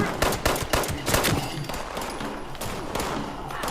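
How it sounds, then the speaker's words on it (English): Rapid bursts of automatic gunfire in Fallout 76, sharp close cracks in quick succession at the start giving way to steadier, denser shooting underneath. "Someone's still shooting me."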